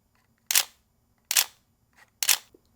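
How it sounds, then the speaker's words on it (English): The shutter of a Canon EOS 1Ds Mark III fires three times, each a loud, sharp, close clack spaced almost a second apart, with a faint softer click between the second and third. "It's loud. The shutter on it,"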